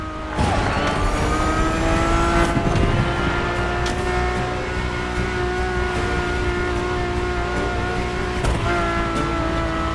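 A high-pitched Ferrari racing engine in The Crew Motorfest video game revs and sustains a loud, tonal whine, holding steady at high rpm with brief shifts in pitch.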